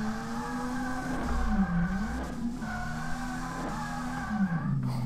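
Car drifting in the video game DRIFT21, a steady engine drone with pitch swoops and tyre-skid tones rising and falling over about five seconds, loud and close with no talk.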